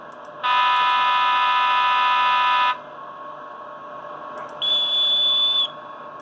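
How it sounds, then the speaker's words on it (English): A Roco model locomotive's sound decoder sounds two whistle blasts: a long, loud, steady harmonic tone, a short pause with faint running hum, then a shorter, higher-pitched whistle. No one speaks. "Some strange whistles."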